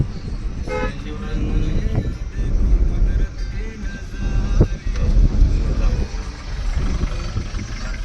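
A petrol car climbs a steep ghat road during driving-school training, its engine humming steadily under nearby talk, with a few short horn toots.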